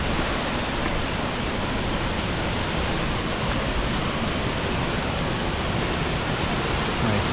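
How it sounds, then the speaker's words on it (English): Glen Aulin Falls, a waterfall above Glen Aulin High Sierra Camp in Yosemite's high country, roars as a dense, unbroken wash of rushing water, steady and loud throughout with no talk. "We got a beautiful, beautiful waterfall here, right above Glen Aulin High Sierra Camp"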